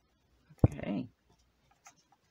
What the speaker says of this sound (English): I'm going to cut it right here.